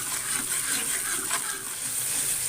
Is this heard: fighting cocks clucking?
no